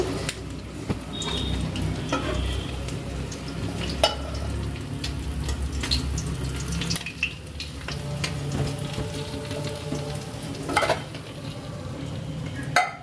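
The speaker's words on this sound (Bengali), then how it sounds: "এভাবে আমি বাকি মাছগুলোও ভেজে নেব" Pabda fish fry in hot oil in a pan, giving a steady sizzle with occasional stirring and scraping clicks, close and continuous with no talking.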